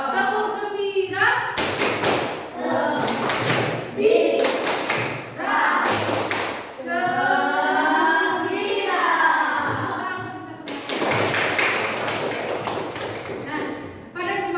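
A classroom of young students chants a rhythmic clapping routine in unison, their voices loud and close, broken by several sharp bursts of clapping and thumps.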